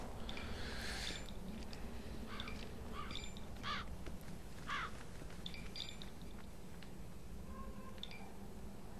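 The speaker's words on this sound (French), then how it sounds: "J'aimerais bien que les corbeaux arrêtent" Crows cawing in a game, several harsh, raspy calls spaced over a steady background noise bed, fairly prominent.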